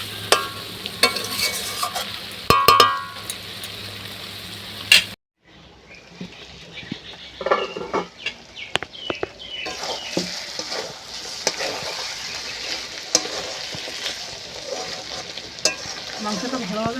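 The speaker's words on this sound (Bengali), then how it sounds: "মাংসটা ভালোভাবে কষানো হয়ে গেছে" Mutton being stirred and sautéed in a pan for a thin Bengali mutton curry with potatoes, scraping and sizzling steadily, with a brief quiet break before the stirring resumes close and fairly loud.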